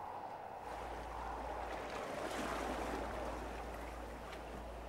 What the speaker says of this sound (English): There really is an entire ocean behind the mansion.